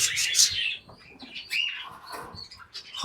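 Pigeons and small birds in a home coop chirp and tweet in quick, close bursts, with some rustling and fluttering in between.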